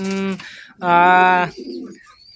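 A racing pigeon just back from a race coos in close, clear repeated throaty calls, two strong coos followed by a softer trailing one.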